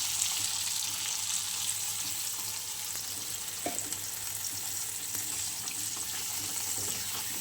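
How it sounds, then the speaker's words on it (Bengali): Water poured into a pan of small prawns frying in oil gives a steady, close hiss and sizzle with a faint splash, continuing evenly throughout. "চলো এবার আমি জল দিয়ে দেবো বন্ধুরা।"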